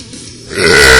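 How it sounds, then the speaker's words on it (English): A loud, powerful burp swells up about midway and rings on to the end, a single sustained eructation heard alone at close range. "I make powerful burps."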